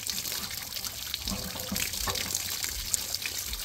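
Water from a hose flushing out an RV hot water tank, a steady hissing, splashing stream that runs continuously and fairly close, with no speech.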